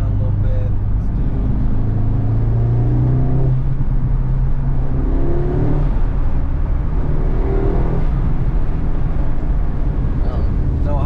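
Car with the window partly open, its exhaust fitted with an APR outlet pipe on an MK8/8Y Audi S3, giving a steady low engine drone and road and wind rush throughout, with a person talking over it.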